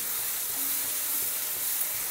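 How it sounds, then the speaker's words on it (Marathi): Green chilies roast in a pan, giving a steady, close sizzle and hiss that lasts the whole moment without talk. "मी जर आता मिरची इथे भाजून घेते थोडीशी."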